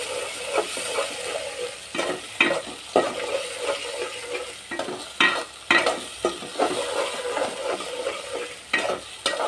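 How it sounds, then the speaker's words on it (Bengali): Chopped onions and green chillies fry in hot oil in a home kitchen, a steady sizzle broken by repeated scraping stirs of a spoon against the pan, close and clear with no talking. "তেল গরম হয়ে গেছে, এখন দিয়ে দিব কেটে রাখা পেঁয়াজ, কাঁচামরিচ। হালকা একটু নেড়ে চেড়ে ভেজে নিব।"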